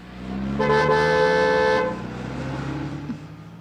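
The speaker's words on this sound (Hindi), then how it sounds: "सामने से कोई भी गाड़ी आए तो हॉर्न बजाना।" A car horn blares in one long steady honk lasting over a second, loud and close, then cuts off, leaving faint road and engine rumble behind.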